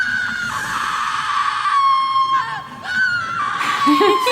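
Prolonged, high-pitched cartoon screams from an episode of the animated series ReBoot, sustained and loud with shifting pitch, layered over a busy soundtrack.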